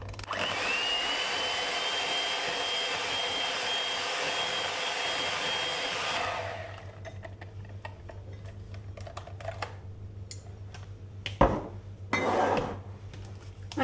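An electric hand mixer whirs steadily as it beats savory muffin batter with cheese, a loud continuous motor drone that cuts off partway through. Scattered clicks and light kitchen clatter follow.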